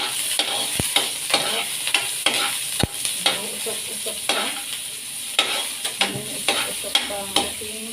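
A generous batch of onions sautéing in a pan for ginisang munggo, a steady sizzle broken by repeated scrapes and stirs of a utensil, with a couple of sharp knocks against the pan.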